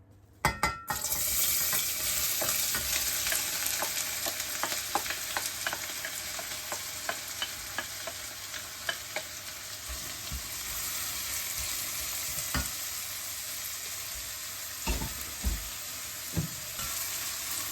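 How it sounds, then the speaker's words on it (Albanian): Onion softening in oil in a pan for a traditional Albanian dish, a dense continuous sizzle with repeated scraping and tapping stirs of a utensil throughout, close, after a sharp clatter at the start. "Kuqim qepën mirë, sa të zbutet."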